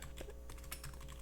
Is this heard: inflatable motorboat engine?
no